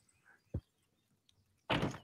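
A door being placed while building a house in a survival video game, heard as a short low thunk followed later by a louder, broader clunk and rustle near the end.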